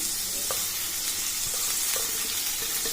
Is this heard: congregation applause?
no